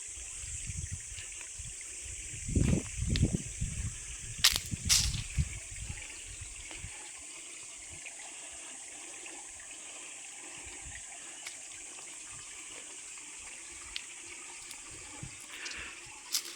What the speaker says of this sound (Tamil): பொதுவாக சதுரகிரியில் எல்லா இடத்துலையுமே அந்த தண்ணியோட சத்தத்தை கேட்க முடியும்.